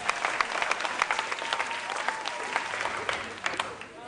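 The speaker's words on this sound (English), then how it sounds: "A round of applause for them." A quiz show studio audience applauds the contestants, with brisk, moderately loud clapping from a small crowd and a voice faintly audible beneath it.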